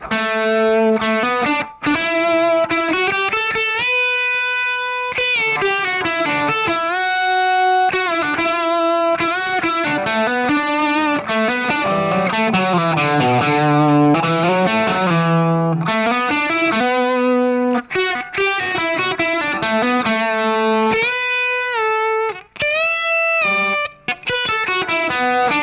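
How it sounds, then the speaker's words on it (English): Distorted electric guitar plays the solo, a continuous run of sustained, bending lead notes with effects, loud and close with no talking. "So the guitar solo sounds like this."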